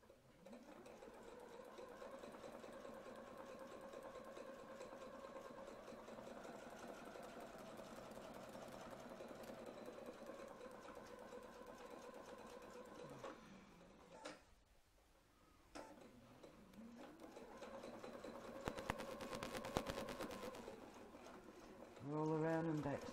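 A domestic sewing machine stitches steadily around a template, giving a continuous fast whirring hum that briefly slows and pauses midway, then resumes. The machine is heard close and alone.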